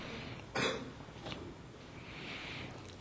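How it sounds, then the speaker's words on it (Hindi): A single sharp cough into a live microphone during a sermon, fairly close and loud, standing out briefly above a low room hiss with faint noises afterward. "माइक बंद करके रखना जब तुम खांसते हो।"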